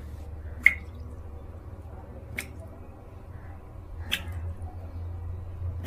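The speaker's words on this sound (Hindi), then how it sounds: "Is it a tap leaking?" Water drips from a leaking tap, three distinct plinks spaced more than a second apart over a low, steady indoor hum.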